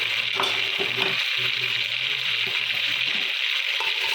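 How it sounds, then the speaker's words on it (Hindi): Goat tongue and head pieces fry in hot oil while a spoon stirs and scrapes through them, giving a steady close sizzle with soft scraping and clinks throughout. "देखो अच्छे से चम्मच चला चला के भूनेंगे"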